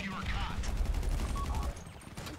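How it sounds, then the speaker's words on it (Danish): Gunfire in the video game GTA 5 Online comes as rapid, dense bursts of crackling shots and thuds during a heist setup shootout. The firing is loud and continuous, with players talking over it. "Hvor fanden skyder de fra?"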